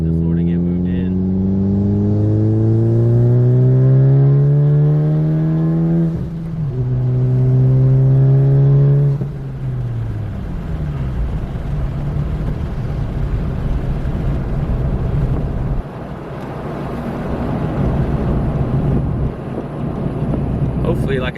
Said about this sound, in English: you guys can actually hear this big turbo spool up